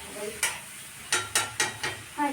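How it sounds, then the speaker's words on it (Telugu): Paneer biryani masala frying in a pot, with a soft background sizzle broken by several sharp scraping stirs of a spoon against the metal, spaced irregularly and heard up close. "బాగా మగ్గాలి ఫ్రై అవ్వాలన్నమాట"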